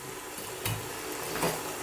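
Pieces of fish for Chinese takeaway-style sweet and sour fish go into a hot pan, giving a faint steady sizzle with a couple of soft thuds and scrapes as they land.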